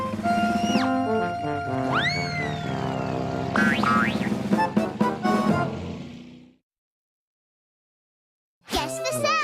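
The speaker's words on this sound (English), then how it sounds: "Boing, boing, boing, boing." Cartoon boing sound effects from Gerald McBoing Boing spring up and down in a quick series of wobbly, pitch-bending twangs, loud and close, followed by a gap of silence and then another burst.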